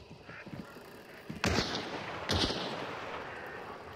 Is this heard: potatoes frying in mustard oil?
no